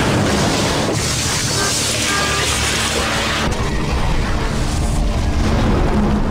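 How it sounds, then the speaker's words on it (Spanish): Heavy booms and rumbling blasts from explosions tearing through the stern of an aircraft carrier, a continuous loud, dense roar with sharp bursts near the one- and three-and-a-half-second marks. "Cuatro explosiones más destrozaron la popa del barco."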